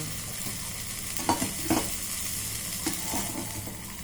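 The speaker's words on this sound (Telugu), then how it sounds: "పచ్చివాసన పోయే వరకు టమాటా వేయించండి" Steady sizzling of tomato puree frying in a pan for an okra tomato curry, with a few soft scraping stirs; no voices.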